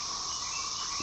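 Cicadas buzz in a continuous, loud, high-pitched drone that holds steady without a break, alone and close around the listener.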